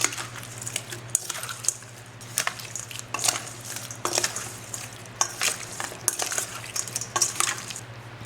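Shrimp being tossed and mixed in a bowl, a run of irregular clinks and scrapes of a utensil against the dish over a low steady hum, close up with no speech.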